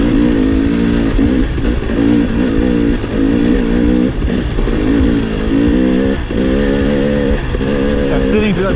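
KTM 300 XC two-stroke dirt bike on muddy trails at NATRA's Suzuki Swamp in West Point, Tennessee, engine revving loud and close with steady buzzing throttle surges and pitch wobbles throughout.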